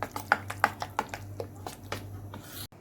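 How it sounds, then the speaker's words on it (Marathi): A utensil beats a breakfast batter with a pinch of soda in a bowl, a quick series of sharp taps and clicks that slows and fades over a few seconds against a low steady hum. "आणि आता छान मिक्स करून घेऊ आपण."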